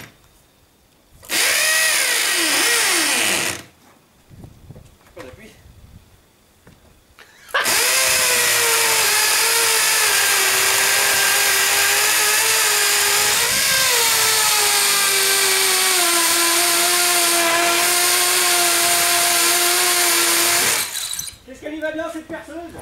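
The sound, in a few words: power drill drilling through a wall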